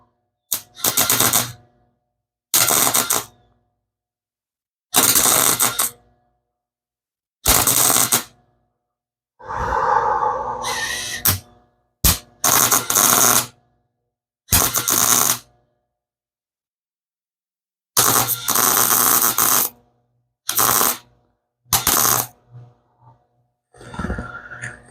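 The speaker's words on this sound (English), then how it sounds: "we're going to do a little more tacking" Tack welding on the driver's door of a 1974 Cutlass: about nine short, loud crackling bursts of a second or so each, separated by pauses, with a brief hiss and faint clicks between them.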